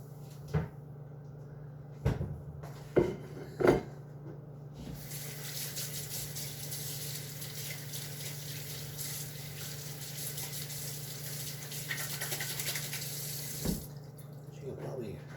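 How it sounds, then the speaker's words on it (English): A kitchen tap runs steadily while hands are washed during cookie baking, the water rushing for about nine seconds between a few sharp knocks and clunks from cupboards and dishes before and after. "You probably heard I was washing my hands again."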